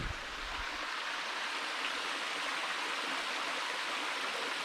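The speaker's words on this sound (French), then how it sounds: "La rivière qui chante. Le ruisseau plutôt." A small brook flowing through wild brush in Isère, a steady full-band rushing and babbling of water heard close and continuous with no voices.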